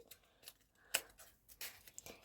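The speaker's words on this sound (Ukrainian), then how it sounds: "Добре, тоді я вже його просто порву." A paper packet of sweets is torn open by hand, giving a few short, quiet ripping bursts close by in an otherwise hushed room.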